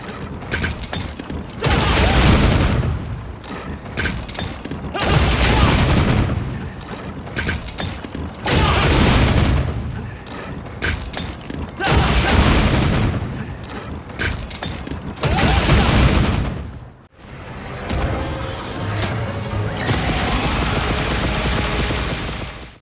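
Cornpopper bowgun from Monster Hunter Wilds firing in repeated bursts, loud mechanical clattering volleys lasting a second or two each, separated by short pauses with lighter whirring and creaking, repeating several times.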